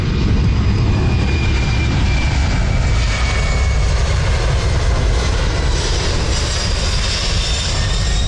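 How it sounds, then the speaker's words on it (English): A fixed-wing aircraft makes a low flyby shortly after takeoff, its loud, steady broadband engine roar with a faint whine holding near and constant throughout, no voices. "And after taking off, it came back around for a low flyby."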